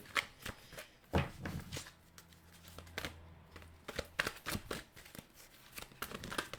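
Oracle cards of plants and trees being shuffled by hand, close crisp riffles and slaps coming in irregular bursts with short pauses between them.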